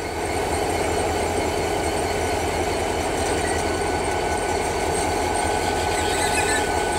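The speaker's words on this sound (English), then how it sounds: "the train's starting to move. She's just barely creeping, just starting" A loud, steady rumble of a Norfolk freight train engine with a faint metallic squeal, as the heavy train slowly creeps forward from a start.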